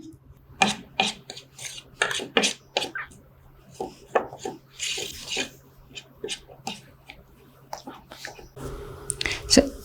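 A homemade facial hair removal paste with rose water is stirred in a small bowl, giving a run of short, close scraping and rubbing strokes in irregular bursts, with a soft voice in the background.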